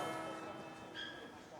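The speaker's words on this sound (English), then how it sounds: "I was wondering why the bells were going. It's someone's wedding." Church bells ring for a wedding in Oxford, faint and distant, a steady resonant peal beneath low outdoor ambience.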